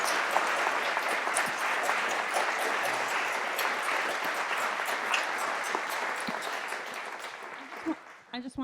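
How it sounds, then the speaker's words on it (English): An audience applauds a panel after a criminal justice reform discussion, with dense, sustained clapping that fills the room and fades slightly toward the end, a voice briefly audible at the close. "Please give a round of applause to this amazing panel."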